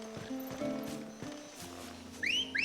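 A rider's whistle summons the mount Ambrosia in the video game Final Fantasy XVI, a bright, rising two-note whistle near the end, following game music and hoof clip-clop.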